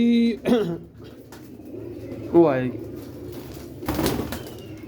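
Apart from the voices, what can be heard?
pigeons cooing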